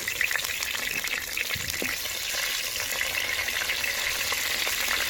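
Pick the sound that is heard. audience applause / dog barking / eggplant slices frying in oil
eggplant slices frying in oil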